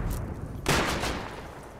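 A burst of gunfire in the video game Rust erupts sharply and decays into a rolling echo over a noisy background.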